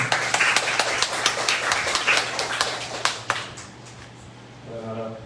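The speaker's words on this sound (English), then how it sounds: "Please give the big round of applause for Rachel" Applause from the audience at a careers event in Taiwan, welcoming a guest speaker: a ragged run of claps that thins out and stops after about three seconds, followed by a voice starting to speak.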